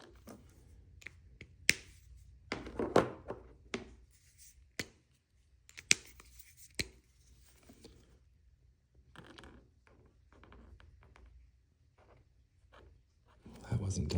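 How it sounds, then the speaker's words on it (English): Markers, pens and pencils on paper at a planner desk, producing soft scattered scratches, taps and clicks close by, with quiet stretches between strokes and faint speech in places. "I love the sound of markers and pens and pencils in these videos"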